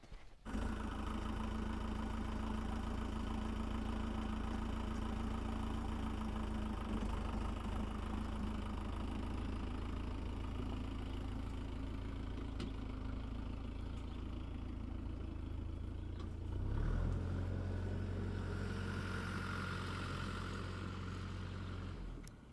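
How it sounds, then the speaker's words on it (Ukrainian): A vehicle engine idles steadily and loudly close by for a long stretch, then revs up and rumbles as the vehicle pulls away, the low drone shifting near the end, with no talk over it. "От, як ви бачите, вже Коля поїхав"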